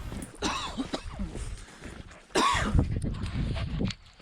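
Two harsh coughs, the second louder and rougher, from someone close by, with quiet shuffling and breathing in between.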